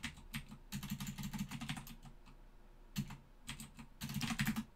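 Typing on a computer keyboard, close bursts of rapid clicking keystrokes separated by short pauses, with no voices.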